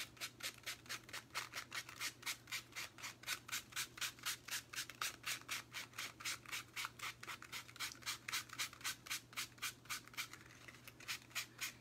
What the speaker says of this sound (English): So we're gonna go ahead and sand this.